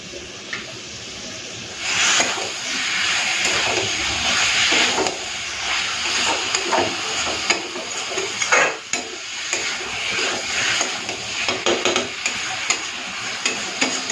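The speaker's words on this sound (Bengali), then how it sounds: "এক্সট্রা জলটাকে ফেলে দিয়ে এখন আমি চিকেনগুলোকে দিয়ে দিচ্ছি" Chicken pieces fry in a pan with soybean for a curry, a close continuous sizzle broken by repeated scraping stirs and louder bursts as the pieces are turned and moved.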